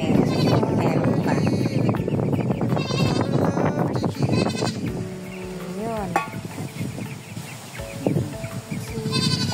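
An agitated goat bleats repeatedly and loudly at close range, with more animal calls and a brief spoken word mixed in.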